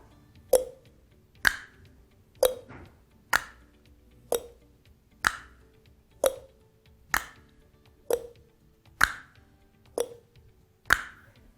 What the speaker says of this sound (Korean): 그럴 때 딱 소리가 나야 됩니다.